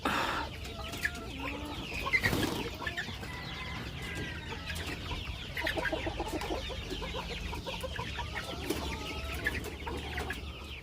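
Hens of a laying flock cluck and chatter nearby in a farmyard, with repeated short clucks and a few louder calls over a low background hum.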